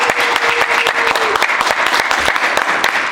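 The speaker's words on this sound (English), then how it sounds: "So make some noise for my man Ethan Jaymes" An audience claps and cheers for a performer on a talk show, giving a loud, dense burst of applause that carries on steadily with no talking.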